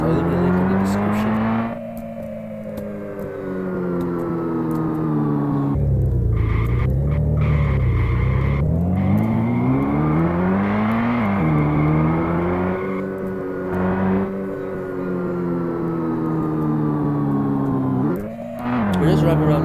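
A car from the Unity realistic car kit drives through a game city, its harmonic engine note rising and falling with revs and gear changes, loud and continuous, with speech over parts of it.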